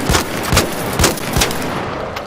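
A shotgun with an extended magazine fires in a video game, about five loud, booming shots spaced evenly a half-second apart, each with a gritty tail.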